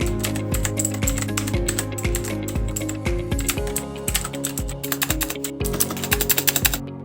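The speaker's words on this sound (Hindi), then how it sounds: "मैकेनिकल कीबोर्ड का और एक इम्पोर्टेंट हाईलाइट जो कि है इसका की साउंड" Rapid, clicky typing on an HP GK320 mechanical gaming keyboard with tactile switches, close and crisp, a steady stream of key strikes with a brief burst of faster presses near the end, no voices.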